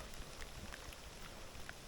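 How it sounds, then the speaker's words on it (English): Steady, faint rain patters down over a stormy campsite, with a soft continuous hiss and scattered drop taps, no voices heard. "Rain's coming down."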